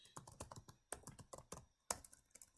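Someone types on a computer keyboard at close range, a quick irregular run of light clicks and taps with a few sharper keystrokes standing out.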